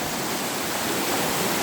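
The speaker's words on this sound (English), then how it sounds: "Got the water rushing towards us. The river's very high at the moment because we've had a lot of rain." High, rain-swollen river rushing beneath a village bridge, a loud, steady, broadband roar of churning water with no breaks and no voices.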